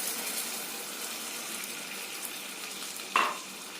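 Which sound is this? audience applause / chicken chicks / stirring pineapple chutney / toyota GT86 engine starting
stirring pineapple chutney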